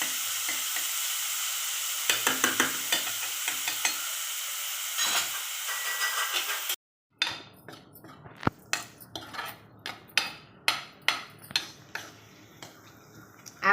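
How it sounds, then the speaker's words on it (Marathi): Chopped onion fries in a pan for a dum aloo potato curry, a dense continuous sizzle for several seconds, then after a brief gap, sharp clicks and scraping of a utensil against the pan over a softer fry. "आपला कांदा बघा किती छान आता फ्राय झालाय"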